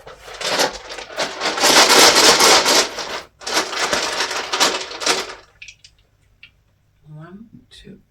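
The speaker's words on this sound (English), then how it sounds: "And some dice." Dice clatter and rattle in a dense burst of small clicks, pause briefly, then tumble again before settling; faint scattered clicks follow near the end, with no voices.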